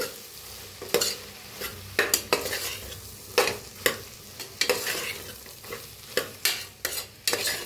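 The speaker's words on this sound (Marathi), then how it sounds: "तर आता छान मिक्स करून घेऊया" Red chilli powder, green chillies and coriander are stirred into hot oil in a pan for soya rice, with repeated loud spatula scrapes and clacks over a low continuous sizzle.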